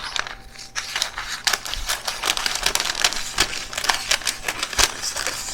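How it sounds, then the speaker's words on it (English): Crisp snipping and crinkling of parchment paper being cut with scissors, a fast irregular series of sharp clicks close to the microphone. "I'm going to cut it with some scissors"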